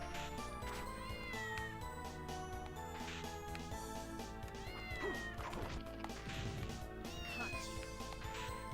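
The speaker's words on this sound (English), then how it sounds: "Okay, I assume that's the cat that's meowing." Repeated cat meows from the game Castlevania: Order of Ecclesia rise over continuous soundtrack music, several separate mews spread across the stretch with occasional thumping impacts.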